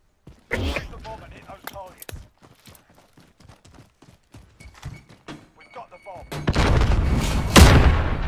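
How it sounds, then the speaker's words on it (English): Rapid Uzi gunfire in a video game crackles in short bursts, with a loud sustained barrage near the end, mixed with voices talking over it. "The impenetrable wall of Uzi bullets."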